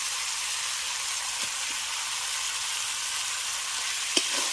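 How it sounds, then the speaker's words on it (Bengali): Cauliflower, potato and pre-fried fish being sautéed in a spice paste hiss with a steady broadband sizzle, broken by a few soft spatula scrapes and one sharper clink near the end; no talking. "এবার ভেজে রাখা ফুলকপি আলুটা এর মধ্যে দিয়ে দিচ্ছি সঙ্গে দিয়ে দেবো ভেজে রাখা মাছগুলো"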